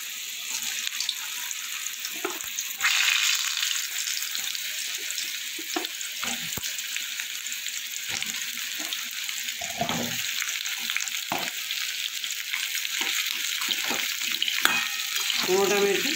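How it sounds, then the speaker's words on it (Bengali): Cut pumpkin pieces fry in hot oil, a continuous loud sizzle close by, broken by scattered stirring scrapes and clatters. "তেলটা আমার গরম হয়ে গেছে। এবার আমি দিয়ে দেবো কেটে রাখা কুমড়ো।"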